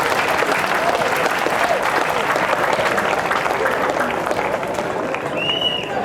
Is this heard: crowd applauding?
yes